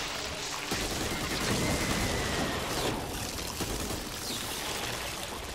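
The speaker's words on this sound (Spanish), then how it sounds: "Vale, disparo con la escopeta." A burst of loud, noisy shotgun blasts in the video game Back 4 Blood crackles through, with a rough, washing roar sustained across the few seconds.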